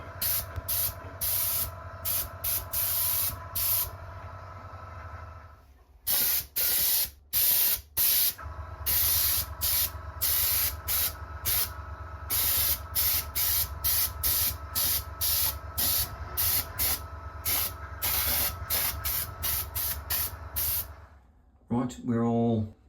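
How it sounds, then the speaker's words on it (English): An airbrush sprays top coat onto a shower basin under repair, in many short, close hissing bursts separated by brief gaps, with one longer pause partway through. "As I've gone on very thinly with the layers and used the airbrush"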